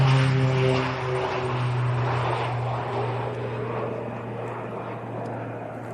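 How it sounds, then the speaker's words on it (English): An airliner's engines at Leeds Bradford Airport roar as a steady broadband jet noise with a low drone, loud at first and easing slightly over the seconds, with no voices. "Don't think we're going to get to see the liftoff on this one then, Tom?"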